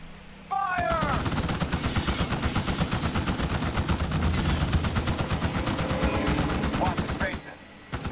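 Rapid, sustained automatic gunfire from the Starship Troopers: Terran Command video game rattles loudly and nearly continuously. Short voice lines come in at the start and near the end.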